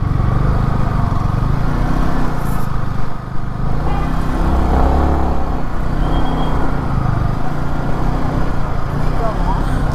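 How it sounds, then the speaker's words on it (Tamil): A vehicle's engine drones steadily as it rolls into the crowded parking area at Nandi Hills, heard close, with people talking over it throughout. "வண்டியை பார்க்கிங் பண்ணணும்."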